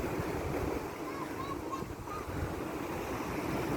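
Sea waves wash in steadily along the Jeddah Corniche seafront, a broad continuous surf rumble with wind buffeting the microphone, no talk.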